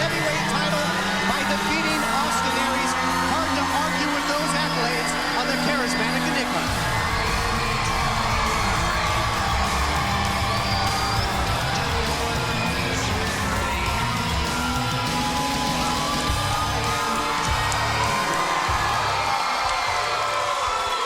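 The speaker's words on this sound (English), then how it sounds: "Listen to this crowd." Crowd in a wrestling arena cheering for Jeff Hardy, a sustained loud roar of voices with whoops and yells rising and falling for the whole stretch, with a commentator talking over it at first.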